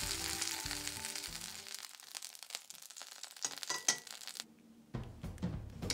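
Oysters frying in a pan until golden brown on both sides, a steady sizzle under light background music, with scattered crackles and a brief lull before the sizzle picks back up.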